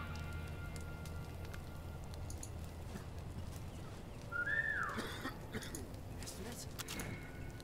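In the War Mongrels game a character lets out a single short, rising whistle midway through, standing clearly above a quiet ambient background.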